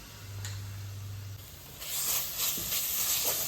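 Ginger garlic paste hits hot oil in a pan for a prawn semiya dish, bursting into a loud, steady hiss and crackle that swells after a quieter start and carries on alone.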